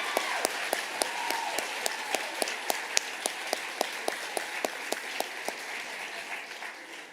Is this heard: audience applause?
yes